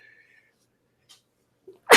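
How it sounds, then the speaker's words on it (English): One sharp human sneeze bursts out close and loud at the very end, after near silence broken only by a faint tone and a brief sniff. "I had to sneeze."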